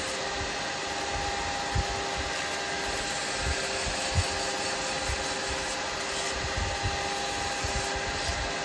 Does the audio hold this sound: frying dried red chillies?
no